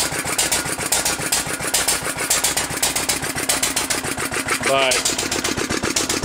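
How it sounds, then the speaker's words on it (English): A 3-5 hp International LB stationary engine runs steadily with a fast, regular chuffing beat that continues throughout, loud and close, while someone talks over it. "It's a 3-5 International LB."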